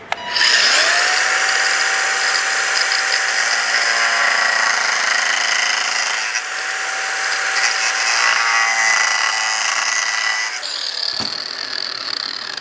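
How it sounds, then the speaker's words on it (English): An angle grinder spins up and cuts into a steel ratchet shifter part for a VL Calais TH400 transmission, giving a loud, sustained high whine for about ten seconds before it winds down and stops. "I'm going to use a grinder."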